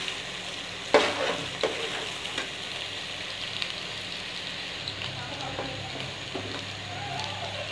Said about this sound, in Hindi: अब हमने लहसुन और अदरक और प्याज को 2 से 3 मिनट के लिए फ्राई कर लिया।